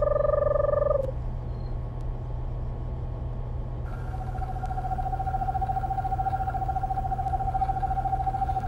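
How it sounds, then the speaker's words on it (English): Screech owl calling, a sustained whinnying trill that stops and returns, heard alone over a steady low drone. "So let's see what a screech owl sounds like"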